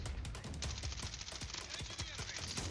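Rapid automatic gunfire in the mobile shooter Call of Duty Mobile, with close, fast bursts of sharp shots running nearly continuously, alongside some speech.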